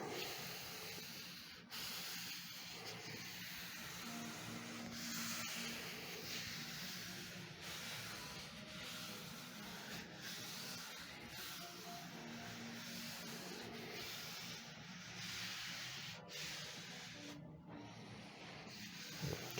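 Paper is rubbed with a hand across a gelli printing plate to lift leftover paint, a soft continuous scratchy sanding-like rasp, close and quiet, with brief pauses.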